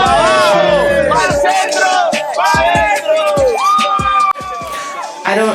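Several voices loudly shout a chanted cheer in close, rising and falling bursts, with whoops and pauses between lines, sounding like a group calling out rather than a single person.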